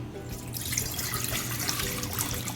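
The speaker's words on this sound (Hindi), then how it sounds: "सबसे पहले हम एक देगची में 2 कप पानी लेंगे।" Two cups of water pour steadily into a metal pot, a bright splashing gush lasting a few seconds with no voices.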